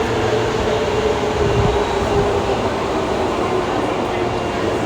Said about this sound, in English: You hear the train coming down.